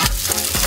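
Food sizzling in a pan during home cooking, a brief close burst of crackling fry noise with no voices.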